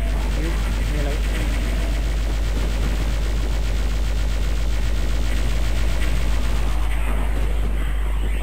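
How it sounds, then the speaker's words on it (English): Constant dense gunfire from a Doom 64 firefight, a loud continuous rattle of shots over a deep droning rumble, lasting throughout without a pause. "Who's shooting me?"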